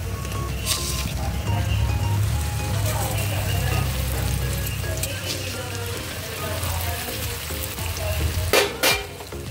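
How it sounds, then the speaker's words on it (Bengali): Onions and tomato frying in oil in a pan give a steady, dense sizzle that holds close and loud throughout, with a brief clatter of utensils near the end. "টমেটোটা ফেলে দিলাম তেলেতে, এবার আমি এক এক করে পেঁয়াজগুলো দিয়ে দেবো"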